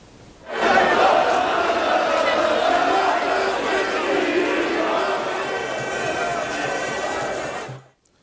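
A dense crowd of Morocco football fans chants and sings in London at night, a loud continuous wash of massed voices that swells in abruptly, holds steady for several seconds, then cuts off.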